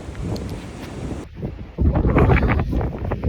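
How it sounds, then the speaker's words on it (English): Strong wind buffeting a microphone on an exposed mountainside along the Appalachian Trail, a loud continuous rumbling roar that surges stronger in the second half, with no voices. "one side of the mountain, it's super windy, like now."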